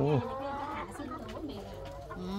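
Laying hens at a chicken farm, with several close clucks and squawks in quick, uneven succession, mixed with faint background voices.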